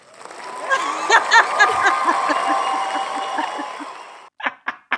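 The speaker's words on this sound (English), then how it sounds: "let's get a round of applause" A canned round of applause sound effect plays loud, with a burst of clapping and faint cheering and laughter mixed in, cutting off abruptly before a few short sharp thuds.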